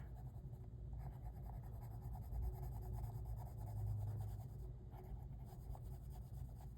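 Soft, steady scratching of a Prismacolor colored pencil shading back and forth across paper, close and quiet, with a faint low hum behind it.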